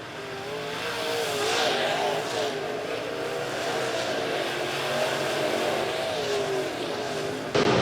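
Late model race cars roar around an oval track at the Tony Roper Memorial, a continuous engine drone that swells and fades as cars pass, heard from a distance with a crowd-like wash and a sharp bump at the very end.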